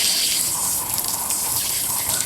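Water gushes steadily into a pipe set in the soil of a lotus tuber pot, a continuous close splashing pour with no voices over it.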